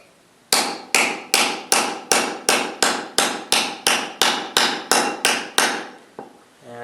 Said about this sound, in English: So I'm just going to hammer on it in my area where I was marked.